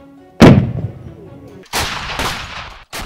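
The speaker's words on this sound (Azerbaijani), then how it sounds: "Ağdamda mina təmizləmə əməliyyatlarından sonra toplanmış minaların partladılması əməliyyatı həyata keçirilir." Detonation of landmines collected during demining in Aghdam: a sharp, loud blast booms and rolls off, then two more heavy explosive bursts follow in quick succession, ending with the onset of a fourth, all with no talk.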